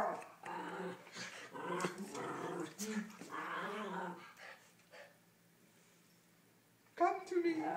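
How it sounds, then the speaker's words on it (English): A puppy growls and whines at close range, a rumbling drawn-out stretch, then a quiet pause before a sharper outburst at the end. "Where's the dog, Theo?"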